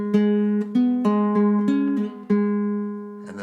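An acoustic guitar plays the riff of a song, with plucked notes, pull-offs and ringing open strings over a sustained low drone, close and clear with no voices.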